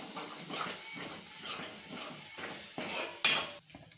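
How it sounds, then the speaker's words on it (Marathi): Rhythmic scraping and clinking of a spoon stirring garam masala and coriander powder in an oiled pan for masala paneer, about eight even strokes close by, ending in a sharper metallic knock. "हलवून घेऊ चांगलं।"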